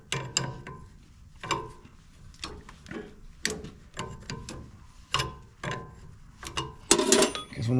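Metal wrench clicking and clanking against paint-crusted injection pump fittings on a 1955 engine, a series of sharp, close ticks and knocks spaced irregularly, ending in a louder rattling clatter.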